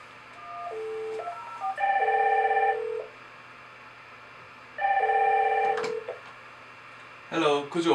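IP phones on a Power over Ethernet supply ring during a call, giving two bursts of electronic warbling ring tones separated by quiet, followed by a short dialing-like beep sequence near the end.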